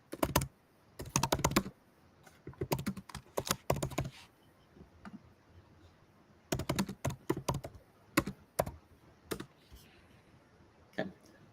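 Computer keyboard typing in bursts of rapid clicks separated by short pauses, close and fairly quiet, with no voices over it.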